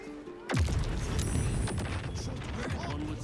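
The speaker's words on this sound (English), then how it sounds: "Explosion incoming." A loud in-game explosion in Baldur's Gate 3 bursts suddenly and leaves a dense rumbling, crackling wash that lingers for a few seconds, with a faint voice beneath it.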